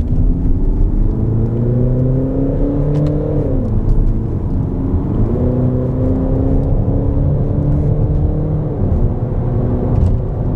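A Peugeot 3008 diesel SUV in sport M mode accelerates steadily, its engine note climbing, dipping at two gear changes, then climbing again, loud and close inside the cabin.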